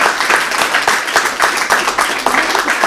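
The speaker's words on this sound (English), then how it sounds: "Can we give these two ladies a round of applause?" Applause from an audience at a talk on women and Islam, a steady wash of many hands clapping close and loud, with faint rhythmic surges and no speech over it.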